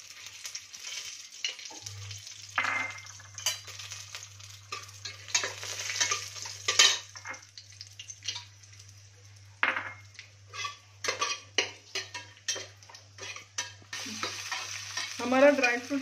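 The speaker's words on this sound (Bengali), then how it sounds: "এখন আমরা সব কাজুটা ভেজে নিচ্ছি, কাজু, কিশমিশ, বাদাম সব ভেজে নিচ্ছি।" Cashews, raisins and nuts fry in a pan while a spoon stirs them, producing irregular bursts of scraping and clattering over a quiet sizzle and a low steady hum.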